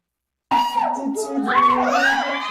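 A crowd of fans screams and cheers loudly at a group's performance in Indonesia, starting abruptly and sustaining a dense, high wall of shrieks with a voice underneath.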